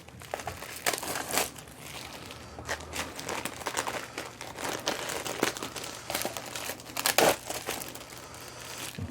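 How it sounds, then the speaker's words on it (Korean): Plastic film is peeled and crumpled off a component during office PC assembly, giving close, loud crinkling and rustling with sharp crackles spread unevenly throughout. "얘는 이제 비닐을 제거를 할게요."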